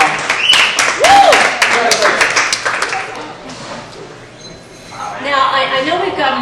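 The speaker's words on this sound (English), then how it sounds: "Let's hear another round of applause for Male Crystal Ball." Studio audience applause and cheering during a radio call-in talk show, a dense burst of clapping with whoops that fades, then people talking over the tail.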